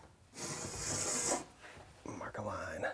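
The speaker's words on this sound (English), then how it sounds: "Mark a line." A pencil scrapes along scrap wood beside a square as a line is marked for a garage workbench, a close raspy rub lasting about a second, followed by quiet talking.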